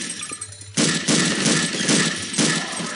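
Rapid bursts of gunfire from a weapon in Garry's Mod, loud and dense, firing in a few sustained volleys after a brief quieter moment.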